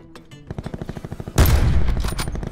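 Video game gunfire in Blackout: a rhythmic string of single shots gives way to a loud, dense burst of rapid fire, close and harsh, with no voices.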